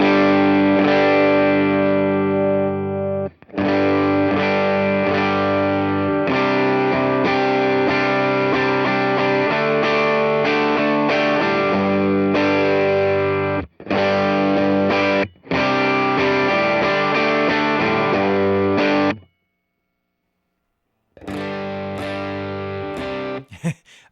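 Overdriven electric guitar plays through an Ox Box cab, thick distorted chords ringing loud and sustained in long phrases, broken by brief gaps and a short silence before a final burst.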